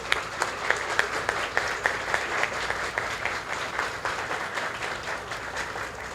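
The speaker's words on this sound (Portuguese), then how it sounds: "Mas eu gostaria também de uma salva de palmas para a autora do livro." Audience applause for a book's author at a business fellowship testimony event, steady and fairly faint, like a large room heard from a distance, with a few louder claps poking through the sustained wash.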